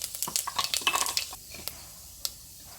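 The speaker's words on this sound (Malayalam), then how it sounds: "വെളിച്ചെണ്ണയാണ് ഞാൻ ആവശ്യത്തിനുള്ള വെളിച്ചെണ്ണ ഒഴിച്ചിട്ടുണ്ട് ഇതിലേക്ക് നമുക്ക് കുറച്ച് പെരുംജീരകം ഇട്ട് കൊടുക്കാം" Fennel seeds drop into hot coconut oil in a pan, giving a brief burst of clinking, crackling and sizzling spatters up close. It settles into a faint hiss with a couple of isolated pops.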